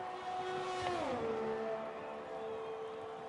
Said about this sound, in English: Here's Andriopoulos, who's starting his lap now in the Ferrari.